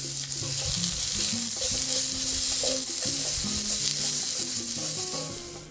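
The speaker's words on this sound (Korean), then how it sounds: "당근을 기름 두른 팬에서 볶아주세요." Carrots stir-fry in an oiled pan with a loud, continuous close-up sizzle and hiss that fades slightly at the end, while soft tonal background music plays underneath.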